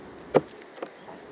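Honeybees at an opened hive give a faint buzz, with a couple of brief close wingbeat passes in a short quiet moment.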